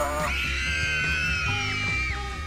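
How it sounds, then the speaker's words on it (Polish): In the horror video game Dayshift at Freddy's 2, children scream continuously and loudly, with several overlapping high yells and wails over a dense game background. "One dalej krzyczą!"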